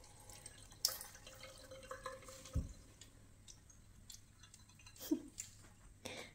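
Water drips from a household tap in the Netherlands while a cat drinks from it; a few sparse, sharp drops land one at a time over a quiet, faintly hissing background.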